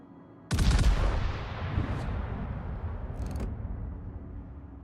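A single heavy HE salvo from the German battleship Mecklenburg in World of Warships booms out loud and close, its deep rumbling blast trailing off over several seconds with faint distant echoes.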